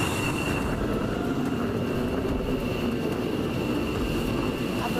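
An aircraft on the ground at an airport with runways, rolling and taxiing on arrival, its engine noise a steady, loud, continuous broadband rumble and whine throughout with no breaks.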